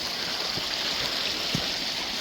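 Steady broadband rush of a stream flowing beside a hiking trail near forgotten waterways, continuous and close, with a few faint thuds of footsteps.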